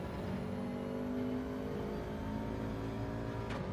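Race car engine in Gran Turismo 7 holding a steady drone throughout, with a rival car running close behind in the slipstream near the end of a lap; a sharp whoosh passes briefly near the end.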